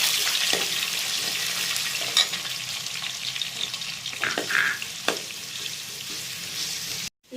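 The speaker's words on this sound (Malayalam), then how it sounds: "അത് മൂക്കട്ടെ." Ginger and garlic fry steadily in hot oil for mango pickle, a close, continuous sizzle with a few sharper spatters and stirring scrapes, cutting off abruptly just before the end.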